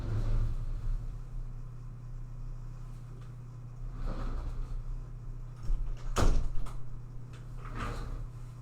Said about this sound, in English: Do you want to shut that door, Carmen?